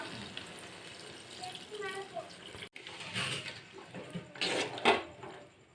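Water pours and splashes into a pot of chicken curry in short bursts, with some clinking and background kitchen noise.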